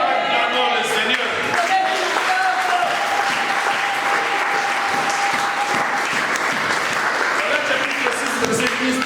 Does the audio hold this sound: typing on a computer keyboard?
no